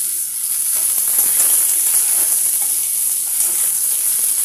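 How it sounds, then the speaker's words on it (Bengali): Jute leaf stalks frying in a pan, a steady bright sizzle and hiss that holds even and close, with faint stirring clinks now and then. "এটা একটুখানি ভেজে নিই"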